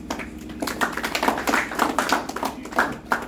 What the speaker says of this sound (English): Your Dania Ahmed with a thunderous round of applause.